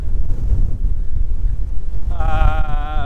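Strong, steady wind buffeting the microphone on a beach in the Magdalen Islands with a low roar, joined near the end by a high whistling tone.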